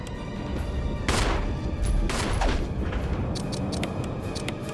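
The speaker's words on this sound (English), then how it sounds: "A very destructive weapon that fires rockets with a large blast radius." Quad rocket launcher blasts in Resident Evil, with two big explosive booms over a low rumbling game ambience and a few sharp clicks later.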